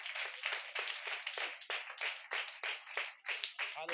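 An audience at a church sermon claps hands together in a dense, continuous burst of applause, steady and fairly close, with no pauses for the full stretch.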